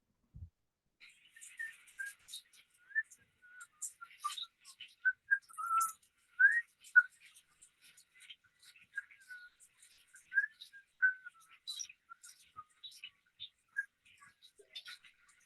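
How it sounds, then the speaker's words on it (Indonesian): Faint whistling under a hushed, near-silent room: a long run of short, wavering whistled notes and chirpy phrases with gaps between them, thin and fairly quiet throughout, with no talk over it. "Cuma kedengerannya siul-siulan."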